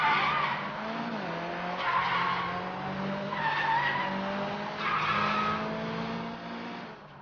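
A car in the Sleeping Dogs video game street race skids hard under the e-brake, its tires squealing in long drawn-out screeches over a loud, continuous engine roar.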